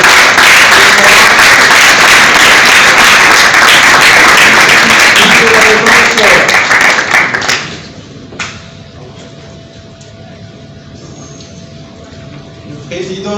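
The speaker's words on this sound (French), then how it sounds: "Sous nos applaudissements" Loud crowd applause at a ceremony honoring a president, a dense steady roar of clapping that fades out after several seconds into quieter room noise.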